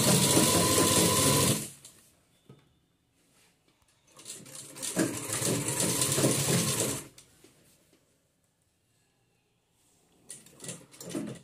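Sewing machine stitching the back neck of a dress, running in two loud close bursts of fast mechanical whirring and clatter separated by quiet pauses, with a third short burst at the end and no talking.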